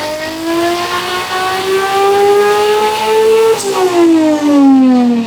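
A car on a shop's chassis dyno revs steadily upward under load with a loud, close, rising engine tone, briefly drops at a gear change and then climbs again, with no talking.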